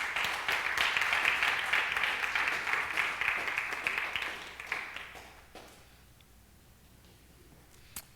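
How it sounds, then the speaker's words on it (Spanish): Congregation clapping in a church during a Sunday service, a sustained crowd applause for about five seconds that fades out into near silence, with a single faint knock near the end. "Dele un aplauso fuerte al Señor."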